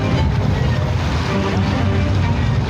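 A floating car moves through deep water, a dense rushing wash of water and wind noise that stays loud and continuous, with a voice talking over it.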